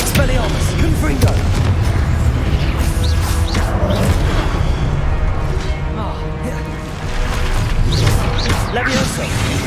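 Confringo spell blasts and other magical combat impacts in Hogwarts Legacy land as loud, dense booms and crashes over a thick layer of game effects and music, with voices shouting throughout.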